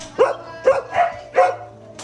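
Male dogs at a rescue shelter barking in sharp, repeated bursts, about four close barks spaced roughly half a second apart, with a faint whimper between them.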